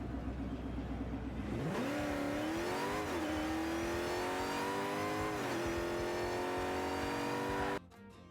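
A car engine revving in the Fortnite video game, a loud steady engine drone that climbs in pitch, dips and rises again in smooth sweeps, holding high before cutting off abruptly near the end, with no voices.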